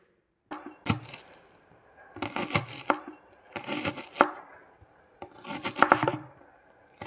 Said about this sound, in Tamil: 2 பெரிய வெங்காயம் எடுத்து அதை நல்லா பொடி பொடியாக நறுக்கி வச்சுக்கலாம்.